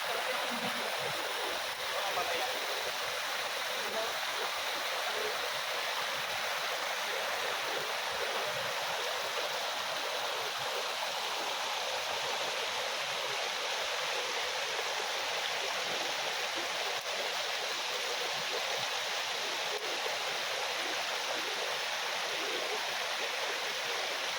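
A stream gushes with water in a steady, continuous rush that holds at an even level throughout, close and fairly loud, with no break.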